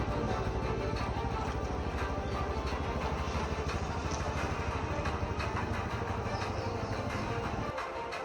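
A modified handicap vehicle reversing under its own power, its small engine running with a steady, continuous mid-range drone and no talk.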